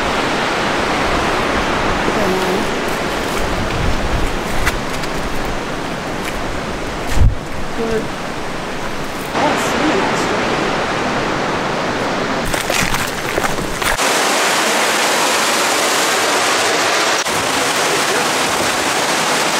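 Water pours steadily over a waterfall in the Blue Mountains, a loud, constant broadband roar close by, with a brief voice and a few bumps breaking in partway through.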